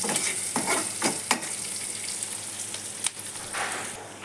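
Onions frying in a pan for a cabbage fry give a continuous close hiss of oil, broken by a few brief stirring scrapes, with no voices.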